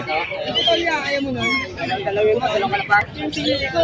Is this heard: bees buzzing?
no